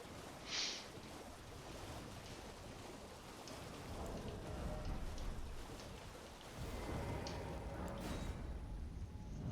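Steady rain falls in a video game, a soft continuous hiss that swells louder partway through, with a brief thunder-like rumble and no voices.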